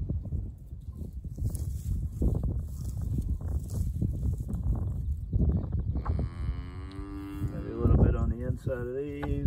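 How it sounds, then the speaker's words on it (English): Calves lowing from a nearby pen: a steady stretch of low, overlapping moos and shuffling, followed by clearer drawn-out calls with rising and falling pitch toward the end, all fairly close and loud with no talking. "My calves are in the pen right next to me."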